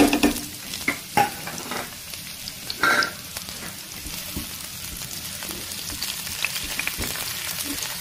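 Chopped onion, garlic and green chili fry in hot oil with a crackling sizzle, punctuated by spoon clinks and stirring scrapes against the pan, no voices.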